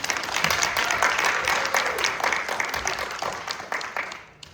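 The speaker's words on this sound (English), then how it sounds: "So round of applause for Bonnie." Audience at a film screening panel clapping steadily for several seconds, individual claps audible in the wash, fading out toward the end.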